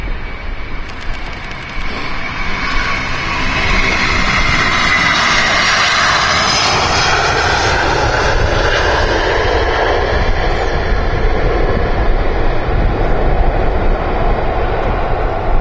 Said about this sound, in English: Big gust of wind there from the A330